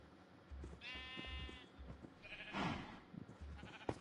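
A red sheep in Minecraft bleats twice, short wavering cries over quiet game background noise with faint soft thumps, no talking.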